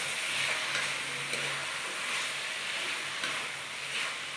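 Carrots, beans and tomato sizzle and hiss steadily in a hot pan while being stirred for vegetable upma, a continuous close frying noise with occasional scraping stirs and no talking.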